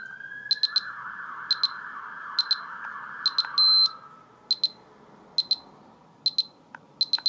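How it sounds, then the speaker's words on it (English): An alarm sounds in the background in a conservatory as short high electronic beeps in paired bursts, repeating at regular intervals, with one longer tone partway through, over a faint steady hum. "just have to apologise about the bloody siren in the background there then"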